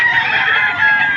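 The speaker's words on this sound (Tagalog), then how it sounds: "Ito pong dalang manok ni sir." A rooster crows loudly and close up at a poultry market, one sustained call that lasts the whole brief moment.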